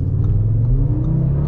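A 2022 Audi RS3 sedan's 400 hp five-cylinder engine revs loud and close from inside the car, a steady low rumble with the pitch rising and then easing.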